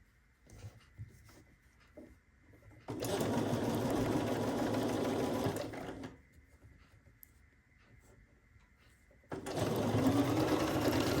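Sewing machine stitching scrappy quilt block pieces along a seam guide, with two steady runs of rapid mechanical whirring separated by a quiet pause with small handling sounds, heard up close.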